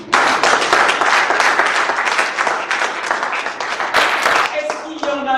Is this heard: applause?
yes